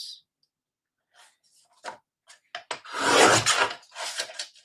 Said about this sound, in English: So I'm cutting a 1/2 inch off.